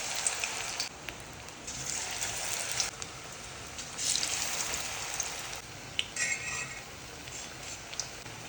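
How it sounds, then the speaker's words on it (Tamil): Battered snake gourd rings dropped into hot oil, a steady close sizzle and crackle of frying with small sharp pops throughout, no voices. "டிப் பண்ணதை எண்ணெயில் போட்டுக்கலாம்."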